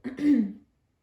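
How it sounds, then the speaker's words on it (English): A woman clears her throat once, a short rough rasp lasting about half a second, close and alone. "I'm going to take another sip because I need to clear my throat."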